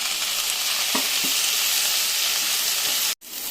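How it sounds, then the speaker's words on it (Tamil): Oil sizzles and crackles steadily in a pan as chopped onions and tomatoes are sautéed and stirred, a constant frying hiss with a brief cut near the end. "கட் பண்ணி வச்சுக்கிற வெங்காயத்தை போட்டு வதக்கணும்"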